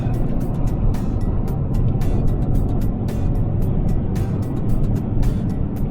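Inside an Opel Insignia 2.0 CDTI OPC diesel under acceleration at speed, a steady low engine drone with road and wind roar, punctuated by faint clicks, with no talk.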